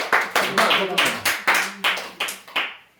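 A small group claps for friends in about eight evenly spaced bursts of hand claps, close by and fading out at the end.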